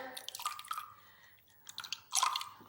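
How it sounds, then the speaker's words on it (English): A wet makeup brush is squeezed and pinched to press the water out, giving soft, close, squishy drips in two short bursts separated by a quiet pause. "I'm gonna set the brush down, squeeze out the water"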